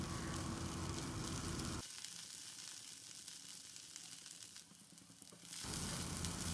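Okra pieces stir-frying in hot oil over a medium flame, a steady close sizzle that drops to a quieter crackle midway before the loud frying returns.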